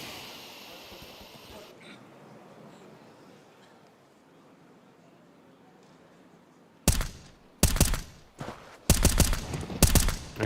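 Pistol gunfire in Counter-Strike erupts after a quiet stretch of faint ambience, several loud, sharp shots and short bursts clustered over the last few seconds.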